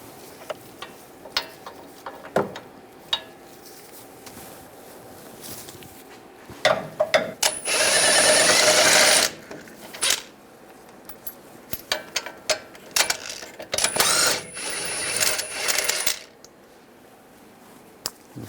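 Caliper bolts on a 2011-2018 Ram 1500 front brake come off with a 21mm socket: sharp metallic clicks and ratchet ticks, bursts of rattling, and a couple of longer whirring stretches, close and intermittent with quiet gaps.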